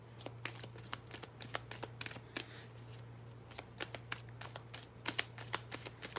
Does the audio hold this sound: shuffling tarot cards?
yes